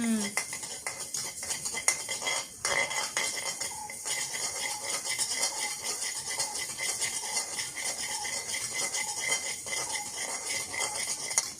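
A spoon clatters and scrapes against a metal pan while stingray curry is stirred and fried in oil in a Jaffna-style kitchen, with steady close clinking and a faint sizzle underneath and no talking.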